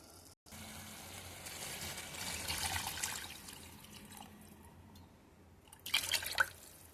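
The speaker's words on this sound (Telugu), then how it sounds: "ఇప్పుడు వాటర్ వేసేసుకుందాం." Water pours and trickles into a pot, a soft steady stream that swells then eases, followed by a brief louder splash near the end.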